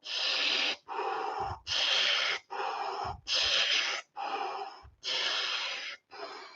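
Deep, relaxed breathing close to the microphone: a run of about eight long, airy breaths with short pauses between them, steady and evenly paced, with no talking.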